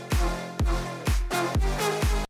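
Layered electronic clap samples in a dance track hit five times in an even, punchy rhythm, each clap bright and loud with a booming low tail, then a sudden cutoff.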